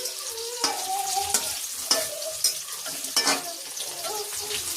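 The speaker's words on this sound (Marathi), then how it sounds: "तो मस्त पैकी लसूण परतावून घेतलेला आहे" Garlic sizzles and crackles in hot oil in a pan with whole green chillies, with occasional louder bursts of stirring scrapes over a steady frying hiss.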